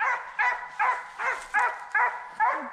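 Hunting dog barking repeatedly during a deer dog drive in South Carolina, about six evenly spaced mid-distance barks in steady rhythm, with no one talking over them.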